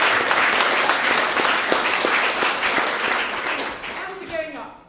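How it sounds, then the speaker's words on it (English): Audience at the World Humanist Congress applauds in a loud, dense burst that gradually thins and fades, with a voice starting to speak over the last moments. "I think they deserve a round of applause"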